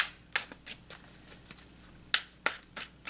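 Soft riffling and flicking of cards being shuffled, a series of light papery bursts at irregular intervals, close by and fairly quiet.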